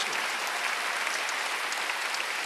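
A church congregation claps during a Sunday worship service, a steady, even wash of many hands continuing throughout without a break and no voices on top.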